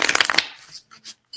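Tarot cards riffled by hand in a quick burst of dense papery flutter, then a few soft taps and slides as the deck settles, close and fairly quiet.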